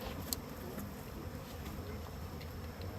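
A honey bee swarm drones continuously in a faint, steady buzz, with soft scattered taps over the hum and no voices.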